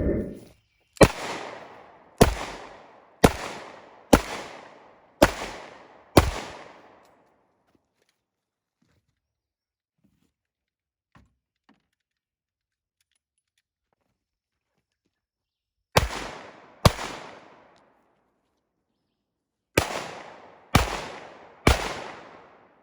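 Sharp gunshots from a Rock Island Model 206 revolver: a rapid string of six or seven loud, evenly spaced reports, a long quiet pause, then two more bursts of shots, with no talking.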